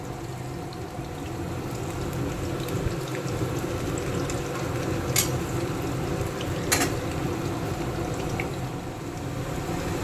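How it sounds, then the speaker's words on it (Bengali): Water for tea at a rolling boil in a home kitchen, a steady bubbling hiss and rumble throughout, alongside faint frying of shrimp and a couple of brief clinks. "আর এইদিকে দেখো চায়ের জলও ফুটে গেছে।"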